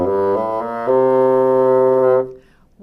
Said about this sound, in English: you're going to get a thin kind of pinched sound that'll probably be sharp